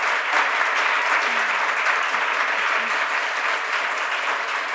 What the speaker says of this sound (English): educators a big round of applause.